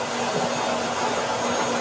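A blower runs steadily with a loud, continuous whooshing air roar and a faint tonal whine, close by and unbroken throughout with no talk.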